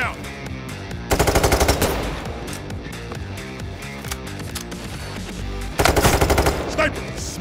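Bursts of automatic gunfire from a PayDay 3 firefight against snipers ring out over a thumping game soundtrack. Two dense volleys hit hard and close, with music and effects continuing in between.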